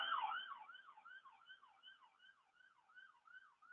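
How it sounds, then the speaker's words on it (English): Emergency vehicle sirens wail outside an open window in Queens, New York City, a distant wavering siren rising and falling steadily without a break, faint under the room's quiet. "Not too many sirens."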